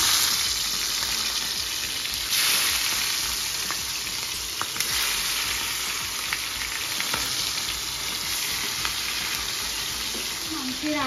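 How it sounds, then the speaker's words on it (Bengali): Prawns sizzle and spit in hot oil in a pan for malai curry, a loud, steady frying hiss with occasional pops and stirring scrapes throughout. "বসিয়ে দিচ্ছি এখন চিংড়ি মাছটা"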